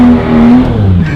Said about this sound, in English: I've never done a donut with a GT3.